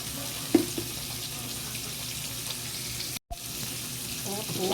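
Steady sizzling and crackling of food frying in a pan, close by, with a faint clink and a brief dropout partway through.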